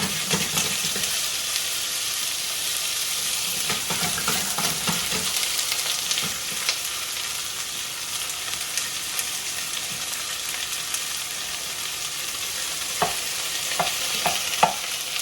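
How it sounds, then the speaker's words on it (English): A pound of stew beef sautés in hot oil for Japanese curry, giving a steady, moderately loud sizzle with scattered stirring clicks and scrapes; no talking. "now we're gonna add 1 pound of stew beef, and we're gonna saute it"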